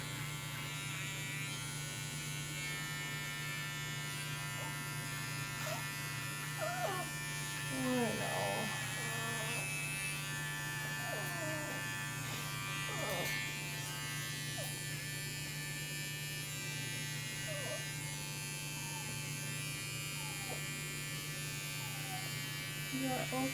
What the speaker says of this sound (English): I'm going to work on shaving his feet.